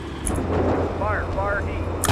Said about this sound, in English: Looks like our allied unit on our flank is starting to engage with some indirect fire.